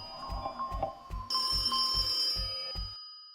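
A telephone rings in a horror video game: a repeating electronic ring in a steady pulse of about eight beats, with a high sustained tone joining partway through, then it stops abruptly, leaving silence.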